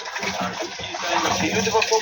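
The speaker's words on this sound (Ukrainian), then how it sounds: "А Никитка воду заливает." Water is poured into a container in a grandmother's home kitchen while flat cookies are made, giving a steady splashing gush that runs the whole time. A voice may be faintly present underneath.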